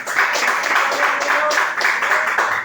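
A church congregation applauding, a dense crowd of clapping hands that stays loud and continuous throughout, with voices mixed into the clapping.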